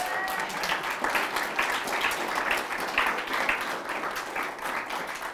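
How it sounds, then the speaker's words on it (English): Audience applause at the end of a presentation on cheap, reliable renewable energy, a steady wash of clapping from a room of listeners that holds at an even level for about five seconds, with faint voices mixed in. "Usually there's a round of applause."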